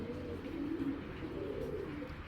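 A large pigeon coos in a low, rolling murmur that runs without a break, close and moderately loud, with no voices.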